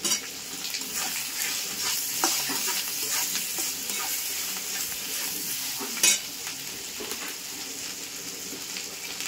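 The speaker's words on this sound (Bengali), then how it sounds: "মাছটা আর পেঁয়াজ আদা রসুন সব একসঙ্গে ভেজে নেব।" Rohu fish head frying in a pan with onion, ginger, garlic and tomato, giving a steady close sizzle broken by stirring scrapes and a few sharp clatters.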